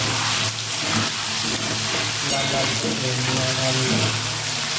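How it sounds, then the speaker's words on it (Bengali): Potatoes frying in hot oil with salt and turmeric give a steady, loud, continuous sizzle that fills the whole stretch without a break. "আলুগুলো দিয়ে দেবো, লবণটা দিয়ে দেবো, হলুদ দিয়ে দেবো, ভালো করে আলুটা ভেজে নেবো"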